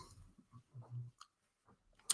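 Potato chips being crunched and chewed indoors, a few soft irregular crunching bites close to the mouth, quiet and alone, with a sharper click near the end.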